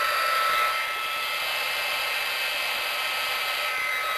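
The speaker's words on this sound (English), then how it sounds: "And just get your heat gun" Heat gun blowing steadily while heat-embossing a card, a loud continuous airy hiss and whine that holds even throughout with no voices.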